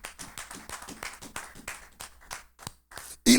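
A church congregation claps loudly during a sermon, with a quick run of sharp, irregular hand claps that tails off, followed by a sudden loud burst at the end.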